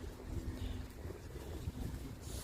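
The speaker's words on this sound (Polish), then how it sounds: "ogólnie to jest wiatr duży" Steady rushing wind blustering across the microphone outdoors, a continuous low rumble with gusty fluctuations throughout.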